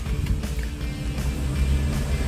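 An oncoming car climbs past on a mountain road on Mount Rokko, heard from inside a Mitsubishi i, its pass blending into a steady loud cabin and road rumble with a few brief swells.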